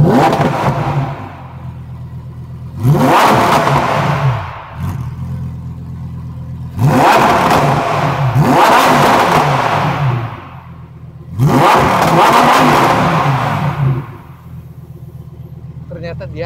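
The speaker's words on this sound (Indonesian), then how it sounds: "Ternyata dia ada soft limiternya, tapi soft limiternya itu ada di 6000 rpm." Lamborghini Huracan engine revved three times in bursts, each climbing sharply to a soft limiter at around 6000 rpm, then dropping back to idle, loud and close with a clattering tone.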